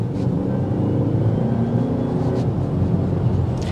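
A 2024 BMW X1 xDrive28i with a seven-speed dual-clutch gearbox accelerating under throttle, giving a steady, fairly loud engine drone and road rumble from inside the cabin, with no one speaking.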